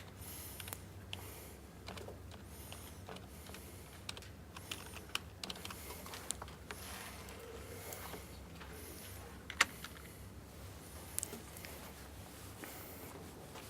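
Fingers tap steadily on a computer keyboard, a quiet, close clatter of uneven keystrokes with occasional sharper clicks and no talking.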